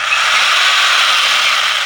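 A Ryobi 8 HP compact chainsaw runs steadily close up, a loud continuous high-pitched buzzing whine with no breaks or voices.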